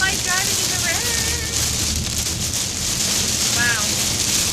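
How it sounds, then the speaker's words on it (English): Heavy rain drums steadily on a moving car during a tornado watch in Fort Lauderdale, loud and continuous, with brief voice sounds inside the car. "I don't like driving in the rain."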